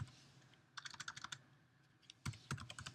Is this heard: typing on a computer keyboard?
yes